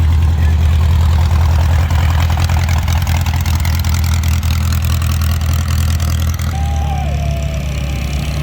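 A sand rail's engine runs steadily and loudly nearby, a deep continuous rumble with a rapid low throb that holds throughout.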